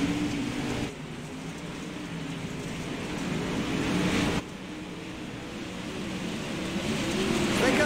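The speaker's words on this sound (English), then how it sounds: "You can tell that the RPMs is bouncing off that rev limiter" Dirt race cars at Volusia in iRacing, their engines droning steadily and bouncing off the rev limiter as a continuous buzzing roar that swells and dips, with no talk over it.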